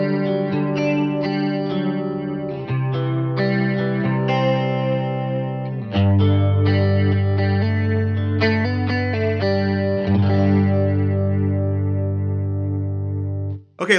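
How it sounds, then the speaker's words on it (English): A Line 6 Helix patch modeled on a vintage '67 Fender Vibe Luxe amp plays electric guitar chords and single-note lines through a chorus effect, with a shimmering, slightly detuned wash; loud, close and steady with no talking. "The last one we have is chorus."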